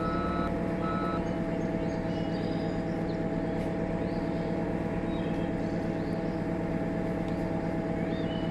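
Skid steer in the Farm Simulator 15 video game sounding steady, repeating reversing beeps over a constant engine drone, close and loud throughout with no talk.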